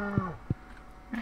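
A cartoon cow in the Stardew Valley farming game gives a short low moo, with a brief second lowing burst and a faint higher call near the end, all fairly quiet.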